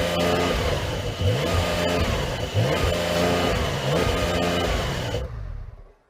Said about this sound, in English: So come on, let's hear the Porsche.